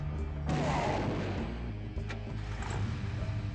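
Artillery fire in the Warhammer Epic 40k strategy game Final Liberation, a sudden heavy blast followed by rumbling booms and smaller shots, moderately faint over a low background drone.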